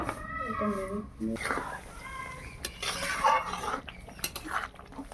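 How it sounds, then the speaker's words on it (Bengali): A lid is set onto a cooking pot of Gobindobhog rice pulao, making a few light metallic clinks and clatters while a person keeps talking. "এবার আমি ঢাকনাটা দিয়ে দেবো।"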